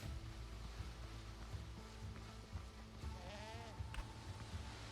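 A nanny goat in the Windrose video game lets out a single wavering bleat partway through, heard over a constant rumbling game ambience without speech.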